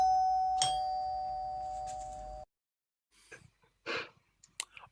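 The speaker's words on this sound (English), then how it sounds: "I would argue that a doorbell is one of the worst noises" A doorbell chimes once, its clear tone ringing and slowly fading, followed by silence and then a few soft breaths and sighs.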